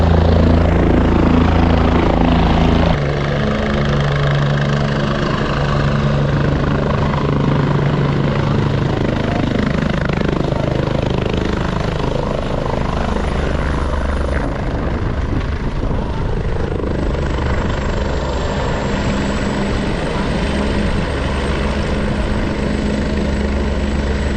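A helicopter drones steadily throughout near a helipad on the Kedarnath route, its rotor and engine noise loud and continuous, shifting slightly in pitch toward the end.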